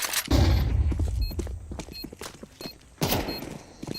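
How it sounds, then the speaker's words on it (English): A flashbang grenade goes off in a video game amid a busy stretch of sharp bangs, clicks and mechanical clatter. Two loud bursts stand out, one near the start and one about three seconds later. "Deploying flashbang."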